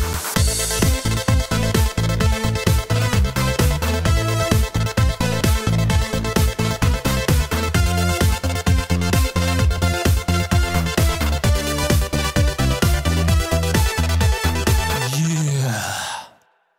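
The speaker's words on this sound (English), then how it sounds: "So now you wonder how you make that stuttering cool synth sound." Gated trance synth stutter pattern built in Reason, loud and continuous with rapid rhythmic choppy pulses over a steady bass line, running without pause before cutting off abruptly at the end.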